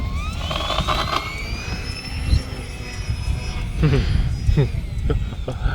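Eratix RC plane flying in a small space, its thin electric motor whine rising and falling steadily as it passes, with wind noise and low rumble underneath throughout.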